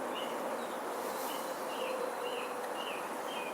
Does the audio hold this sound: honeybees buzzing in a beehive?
yes